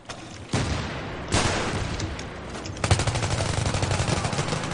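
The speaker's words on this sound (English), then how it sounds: "What am I getting shot by?" Loud gunfire in the video game Battlefield 3 beta: sharp single shots give way to a sustained rapid automatic burst, close and dominant.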